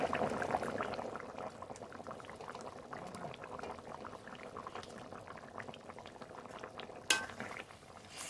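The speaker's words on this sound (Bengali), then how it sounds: "এবার মাছ দিয়ে দেবো।" Taro curry with rohu fish simmers steadily in a pot, giving a continuous soft bubbling with faint clinks of a utensil and one sharp metallic tap near the end.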